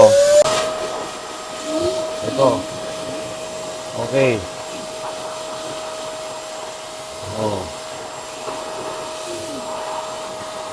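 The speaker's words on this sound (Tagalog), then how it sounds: "hanginan mo na, medyo maingay lang yung vacuum natin" A vacuum blower blowing air into a flood-damaged car engine drones with a steady whine throughout, while a few short spoken words break in over the noise.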